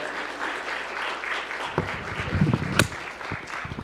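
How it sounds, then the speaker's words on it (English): Audience applause at a Martin Luther King Jr. Day of Service gathering, a broad wash of clapping that swells with a few louder claps toward the end. "Everyone give Ms. Hickson a round of applause"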